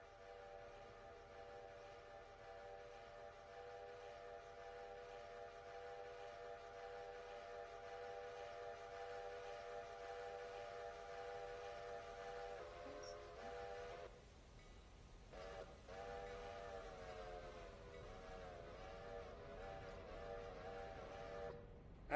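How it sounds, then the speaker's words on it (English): Steam-style train whistle and bell on a West Virginia Southern locomotive at 1:41 a.m., a long, steady, loud whistle chord that is held on, breaks off briefly, then sounds again with the bell ringing under it. "Oh, I'm just laying on the whistle and the bell"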